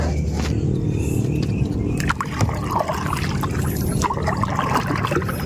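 Strong river current flows steadily with a continuous rushing, frothy wash of water, close and fairly loud, with small splashes and trickles throughout and no talk.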